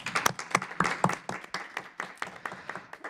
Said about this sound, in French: Bien, merci Monsieur le maire, on peut vous applaudir.